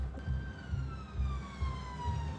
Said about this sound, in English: I'm sure they'll even put the sirens on for us